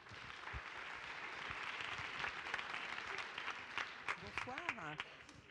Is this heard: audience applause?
yes